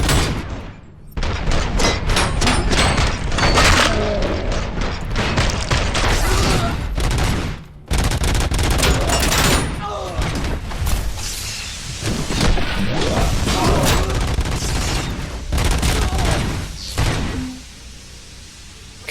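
Bursts of gunfire in the video game Robocop: Rogue City, with rapid volleys of shots, sharp impacts and crashes, broken by brief gaps, loud and close.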